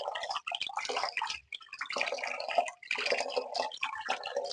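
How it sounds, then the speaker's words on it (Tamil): Running water rinses herbal bath powder off a hand, making close, uneven splashing and gushing in bursts with short pauses as the hand moves under the flow. "இப்போ நம்ம இங்க ஃபுல்லா வாஷ் பண்ணிக்கலாம்"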